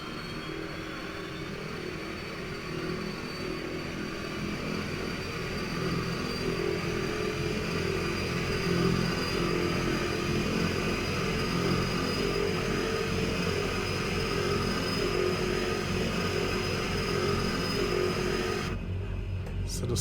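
Embraer 110 turboprop engine spooling up during startup in Microsoft Flight Simulator 2020, a steady broadband whine and roar holding at even loudness for about twenty seconds, with no talking.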